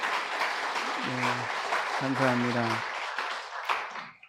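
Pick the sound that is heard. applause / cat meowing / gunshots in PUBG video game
applause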